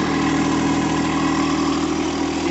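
A tractor engine idles nearby, a steady, loud, low rumbling drone with even vibration that holds through the whole stretch and no voices over it.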